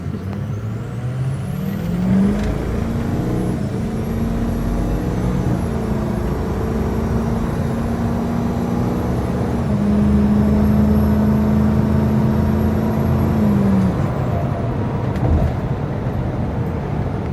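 A 6.0L Powerstroke diesel truck accelerates at full throttle from a complete stop, its engine droning loud and steady for the whole stretch, with the pitch shifting as it climbs through the gears.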